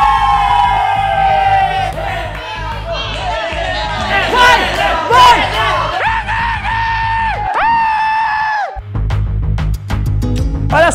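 Spectators at a card-flipping game final cheer and shout together, loud, close and excited yelling and whooping that runs throughout, mixed with a voice shouting over the crowd.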